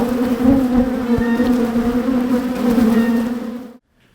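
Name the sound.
honeybees buzzing around beehives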